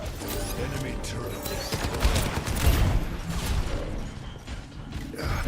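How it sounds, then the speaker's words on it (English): Enemy turret firing in Overwatch 2, a dense stream of rapid mechanical shots and clanks in the middle distance, under game noise and a voice talking. "Enemy turret."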